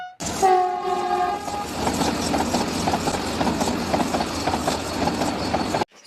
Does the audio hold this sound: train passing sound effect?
yes